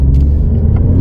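Alfa Romeo Giulia Quadrifoglio's turbocharged engine rumbling steadily while driving, a loud, continuous low drone with no talk over it.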